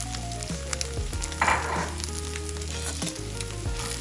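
Rice warmed in a microwave is poured over breakfast fried rice sizzling in a pan, giving a steady loud frying hiss with a brief swell of crackle as the grains land.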